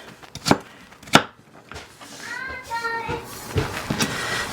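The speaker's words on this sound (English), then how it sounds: "I'm going to go ahead and dice this up real quick" A knife dicing a potato into small pieces on a board, with a few sharp, separate chops followed by quicker, lighter cuts, heard close up over faint background noise.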